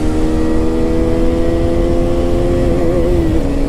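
A Husqvarna Svartpilen 250 motorcycle pulls hard through first and second gear, a steady loud engine drone that rises and wavers in pitch near the end, heard up close with no talk.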